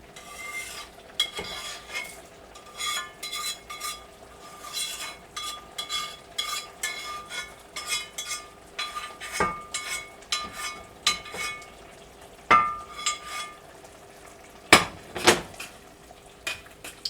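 A spoon scrapes and stirs cooked-down squash with sautéed onion in a pot, a continuous close rubbing rhythm broken by occasional sharp clinks against the pot's side.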